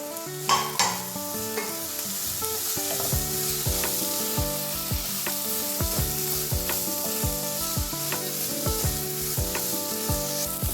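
A coconut, green chilli and shallot mix is stirred into a masala in a pan: a busy sizzle under rhythmic spatula scrapes and clinks against metal, close and continuous with no voices.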